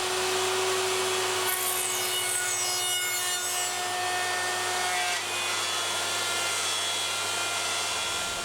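Router cutting down into the neck pocket of a Stratocaster wooden guitar body, a steady high-pitched whine with abrasive cutting noise that holds loud and continuous throughout, with a brief rising sweep early on.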